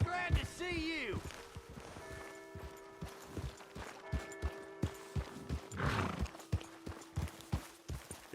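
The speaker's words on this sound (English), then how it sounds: "Hey! My horse!" A horse in the Western game Red Dead Redemption 2 whinnies loudly at the start, then steady clip-clop hoofbeats follow in an even rhythm, with a low hum underneath and a brief burst of other noise midway.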